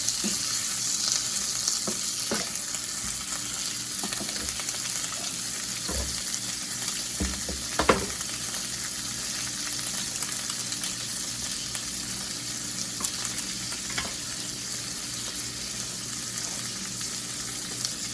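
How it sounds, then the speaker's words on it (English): Melted butter sizzles in a pan with lemon pepper and jarred garlic, a steady close crackle with a few sharp utensil taps and stirring sounds, no voices. "And once that butter melts, we'll add the seasoning, the lemon pepper and the garlic."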